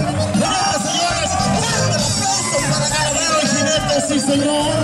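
Crowd at a jaripeo bull riding event in Santa Catarina, Guanajuato, roaring with cheers, whoops and shouts in a loud, continuous wash while an announcer talks over it.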